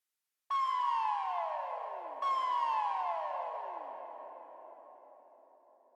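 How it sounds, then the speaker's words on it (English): A synthesized whale-call sample with echo applied, two gliding downward tonal cries, the second repeating the first, each trailing off into a long fading echo tail. "Then we have this whale sound, which is a sample with echo applied"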